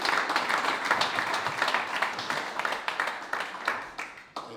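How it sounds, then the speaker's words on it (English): Audience applause at a book presentation, a sustained dense clapping from a crowd that rolls on for several seconds and then thins out toward the end. "please give her another big round of applause"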